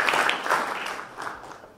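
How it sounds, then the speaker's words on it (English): Brief, fairly quiet applause from a morning meeting audience, a short burst of clapping that fades within two seconds. "so give yourself a round of applause"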